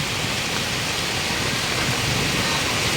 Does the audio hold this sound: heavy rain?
yes